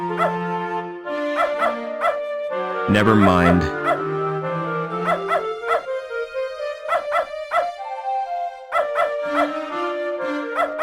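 A dog from the video game Beneath a Steel Sky barks, yips and whimpers in short sharp bursts over a synthesized musical soundtrack, with a voice speaking briefly between the sounds.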